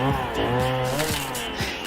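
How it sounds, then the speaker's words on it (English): A malfunctioning blender snarls with a harsh, buzzing, chainsaw-like motor whine, loud and close, its pitch lurching and stepping up and down in jerky surges through the short burst. "It sounded like a chainsaw. There's probably something wrong with the blender."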